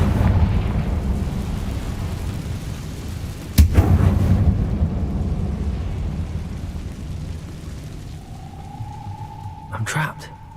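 In Hogwarts Legacy, the Confringo explosive spell goes off with a sudden sharp blast and a deep rumbling roar that trails away over several seconds, followed by a brief tonal whoosh and a second crack near the end.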